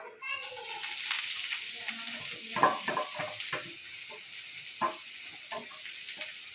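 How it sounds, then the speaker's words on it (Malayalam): Onion and green chillies hit hot oil in a pan, a bright close sizzle that settles into steady frying with occasional clicks and scrapes of stirring. "എണ്ണ ജസ്റ്റ് ഒന്ന് ചൂടായി വരുമ്പോഴത്തേക്കും ഗൈസ് നമുക്കിനി ഉള്ളിയും പച്ചമുളകും ഇട്ട് കൊടുക്കാം"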